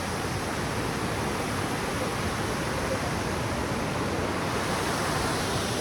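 Rushing water of Kookal waterfalls in Kodaikanal, a swollen, fast-flowing fall roaring as a steady, loud broadband wash close by, unbroken with no voices.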